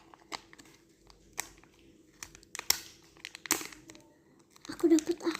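Packaging from a Sanrio gift crinkles and crunches in short bursts close by, with scattered rustles building to a denser burst of handling near the end.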